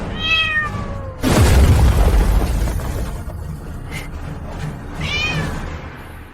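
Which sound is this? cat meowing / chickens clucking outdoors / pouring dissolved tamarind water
cat meowing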